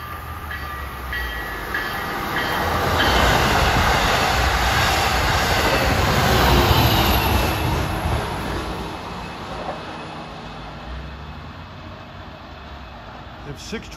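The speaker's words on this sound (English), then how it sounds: "Approaching at 8:17 is a train that traveled a long distance. This is train number 7 en route from Montauk to Long Island City." An LIRR train, number 7 from Montauk bound for Long Island City, rumbles past a triple-track stretch at Carle Place in the morning, its roar swelling loud and then slowly fading, with a voice talking over it.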